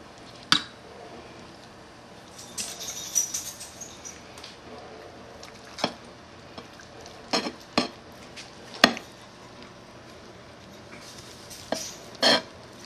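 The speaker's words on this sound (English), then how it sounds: "Slice the breast a little bit and see how moist it is." A knife slicing through smoked chicken breast makes sporadic soft cuts and sharp clicks against a board, separated by quiet gaps.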